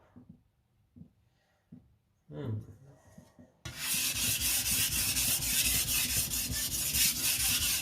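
Steady abrasive rubbing of a knife blade on a sharpening stone, working the burr, starts loud and continuous after a few faint taps and scrapes, with dense repeated strokes close up.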